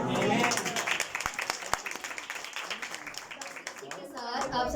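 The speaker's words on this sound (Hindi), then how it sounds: "तालियां बजाते हैं।" An audience at a Christmas school program bursts into clapping, loud at first and then settling into scattered, uneven claps with some voices mixed in.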